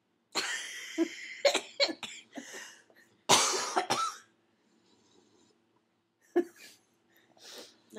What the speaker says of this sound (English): All the hacking, coughing, and snoring.